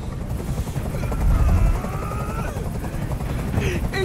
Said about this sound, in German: Dieser Helikopter soll verschwinden.